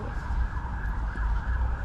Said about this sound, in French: c'est la sirène qui fait peur dans les séries